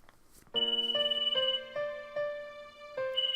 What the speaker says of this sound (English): I woke up with phone call.